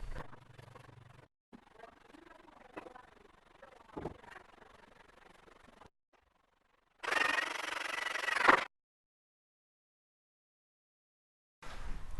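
A short burst of harsh broadband scraping as a thin spatula removes excess joint compound from gypsum board, close and fairly loud, after quieter rubbing sounds and a pause; another scrape begins at the end.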